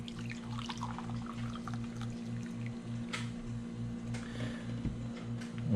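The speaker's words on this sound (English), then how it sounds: "Let's blast some hot water in it." Hot water poured into freeze-dried coffee from a Russian vegetarian ration, a quiet liquid pour with some dripping over a steady low hum, close up and faint.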